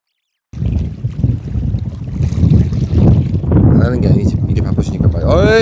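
Strong wind buffets a fishing boat off Namhae, South Korea, roaring steadily with low rumble and microphone gusts throughout, while voices talk over it.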